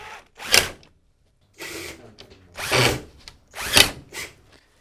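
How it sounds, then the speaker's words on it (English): A power drill drives a screw into a plywood wooden boat hull during a repair, whirring in several short, loud bursts separated by brief pauses, with no talking. "We simply screw that back in place."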